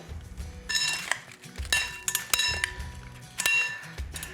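Cucumber and fruit salad being mixed with chili sauce in a bowl: a utensil clinks and taps against the bowl in irregular bursts, fairly close, with soft rustling between strikes.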